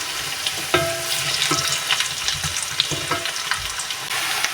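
Sliced onions sizzle steadily in hot oil in a pan while browning to golden for a chicken kosha, with occasional scraping stirs and clinks, close and continuous with no talking.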